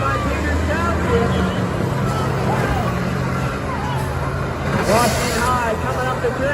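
School buses grind and shove against each other in a demolition derby as engines roar and metal scrapes, set under an excited announcer calling the action and crowd noise.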